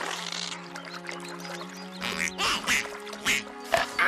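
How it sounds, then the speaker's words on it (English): Turtle ducks, a cartoon animal, quack in short repeated honking bursts close by, heard alongside a steady tonal hum and other animated background sounds. "Stupid turtle duck!"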